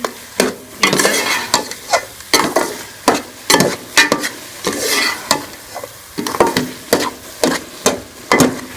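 Carrot halwa is stirred and cooked in a pan, loud rhythmic scraping strokes coming about once a second over a steady sizzle, close and with no voices.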